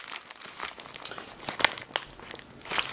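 Plastic packaging of a sewing and embroidery machine's accessory kit crinkles and tears up close, a continuous rustle with a few sharper crackles.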